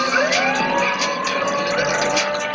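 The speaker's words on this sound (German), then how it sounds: "Er hat die Sirene dahingestellt." Fire engine siren in the video game Grand Theft Auto Online, a steady loud wailing tone with sweeping pitch, close and continuous, with no talking over it.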